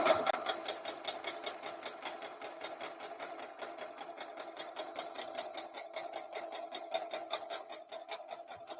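A sewing machine stitches fabric for a doll top, running steadily with a fast, even mechanical chatter up close, pausing briefly as it reverses and goes forward again.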